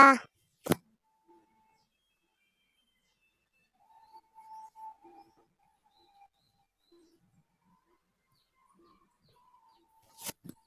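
A pigeon gives a soft, low cooing call in the middle of an otherwise quiet stretch, faint and brief, framed by a couple of sharp clicks.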